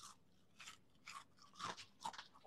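A handful of crisp, close crunches spaced about half a second apart, like someone biting into fried okra, with no talking.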